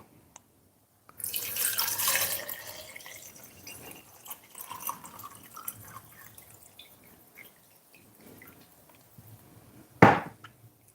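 Tap water gushes into a cooking pot while a Caribbean dish of tinned tuna is prepared. A loud rushing burst fades into softer trickling and dripping, then a sharp clatter comes near the end, with no talking.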